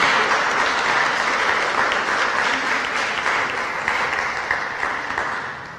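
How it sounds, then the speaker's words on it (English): A branch meeting audience claps for their MP, a thick, steady patter of many hands that holds strong for several seconds before starting to thin and fade at the end. "I think you need to give your MP for that just a round of applause."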